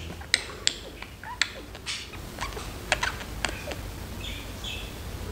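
A parrot grinds its beak while settling for sleep, making a series of sharp, dry clicks spaced irregularly, with a few faint chirps near the end against a quiet indoor background.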